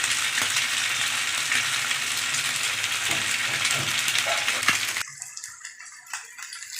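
Fish frying in hot oil in a pan, a dense steady sizzle that fills the first five seconds, then drops to a quieter, patchy crackle with a few soft pops near the end.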